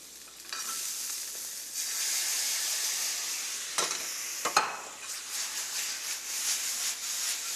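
Steady sizzling and hissing of vegetables being stir-fried in a hot pan, with occasional scrapes and clatters of a utensil, no talking.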